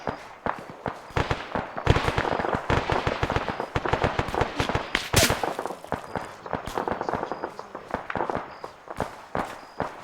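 Dense bursts of gunfire crackle through an Arma 3 military simulation firefight, with rapid sharp reports and scattered shots, fairly loud and continuous, occasionally overlapping one another.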